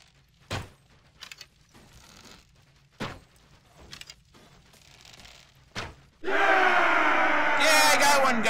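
A loud crowd cheer erupts in Mount and Blade: Viking Conquest after several sharp thuds and impacts, the roar swelling and holding steady near and full to the end.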